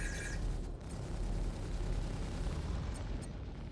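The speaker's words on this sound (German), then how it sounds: "Oh, scheiße, Fax ist explodiert." An explosion from a spaceship blown apart during a Star Citizen video game dogfight gives a dense, rumbling roar that fills the whole clip at a steady level, with no voices.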